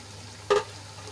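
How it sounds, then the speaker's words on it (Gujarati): Semolina and raw potato snack pieces fry in hot oil with a soft, steady sizzle, broken by one brief louder crackle or stir partway through. "ગોલ્ડન બ્રાઉન થાય ત્યાં સુધી આપણે નાસ્તાને ફેરવી ફેરવીને બંને બાજુથી સરસ રીતે તળી લઈશું"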